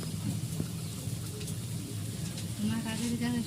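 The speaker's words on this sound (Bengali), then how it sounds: "দেখুন টকবক করে কি সুন্দর ফুটছে" Mrigal fish curry at a rolling boil in a pot over a wood-fired stove gives a soft, continuous bubbling hiss, with a voice speaking over it.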